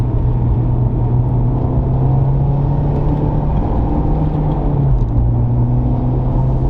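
A car engine drones steadily at close range, its low hum shifting pitch as the driver downshifts partway through on a canyon road, with no talking.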